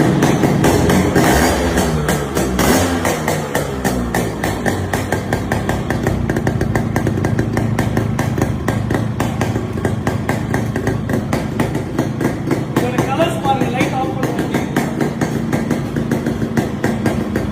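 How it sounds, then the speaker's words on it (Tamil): A Yamaha RX 100 motorcycle at a Chennai modification garage runs with a loud, close two-stroke exhaust beat, a rapid steady thumping with occasional throttle blips, alone without talk. "இந்த RX 100 பீட் பார்க்கலாம்"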